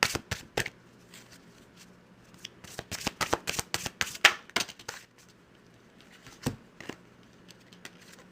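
Fairy Lenormand Oracle cards are shuffled by hand, giving a string of crisp riffling snaps and flicks in uneven bursts, close and clear, with short pauses between them and no talking.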